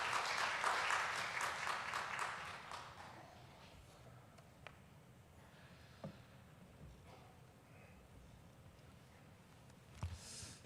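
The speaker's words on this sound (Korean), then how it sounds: "격려의 박수로 우리가 맞이하도록 하겠습니다." Church congregation at a Sunday worship service applauds to welcome the pastor, a fairly loud burst of clapping from many people that dies away within a few seconds into a quiet hall with scattered small knocks and a brief rustle.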